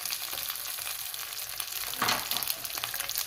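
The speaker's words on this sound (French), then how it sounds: "je vais rajouter le coulis de tomates" Tomato coulis meets hot cooking oil in a pan, giving a close, steady sizzle that swells into a louder burst of frying as more sauce goes in, with no voices over it.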